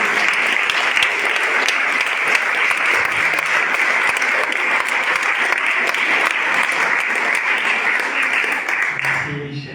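A church congregation claps and applauds together, a dense and steady wash of many hands that lasts several seconds before fading at the end.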